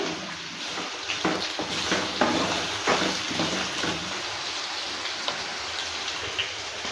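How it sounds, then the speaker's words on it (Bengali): Potato and kakrol (spiny gourd) fry in hot oil with a dense, constant sizzling hiss, broken by scattered crackles and soft scrapes as the vegetables are stirred. "আলু আর কাঁকরোল একসঙ্গে ভেজে নেব দেওয়ার পর নেড়ে চেড়ে নিচ্ছি"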